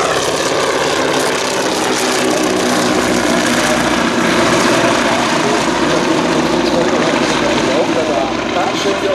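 Morane-Saulnier MS.406 propeller fighter at an air show, a loud, steady piston engine drone close by, with an announcer talking over it.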